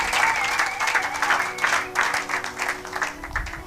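A church congregation claps together in steady, sustained applause, dense and close, with a voice speaking over the clapping.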